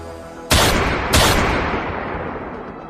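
Two loud gunshots about half a second apart, each a sharp broadband crack followed by a long echoing decay.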